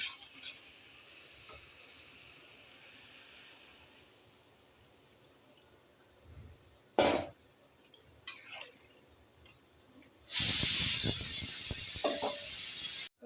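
Water goes into a hot pan of fried pumpkin pieces, first with a brief splash, then a loud, close hissing rush that lasts a few seconds after a quiet stretch of faint kitchen noise.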